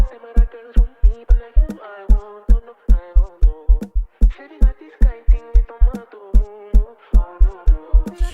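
Conga pattern layered over a kick drum in an Amapiano beat, with steady deep kick thumps and tuned hand-drum tones bouncing in a syncopated groove, loud and up front with no voices.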